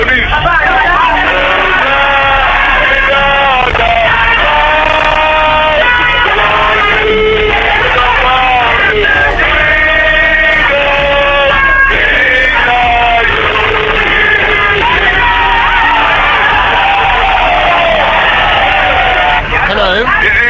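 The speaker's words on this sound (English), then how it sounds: "There's a large crowd here, and I was being escorted out to detention by singing the national anthem" A large crowd sings the national anthem loudly and continuously during someone's arrest, many voices blending into a steady chant with shouts, close and dense throughout.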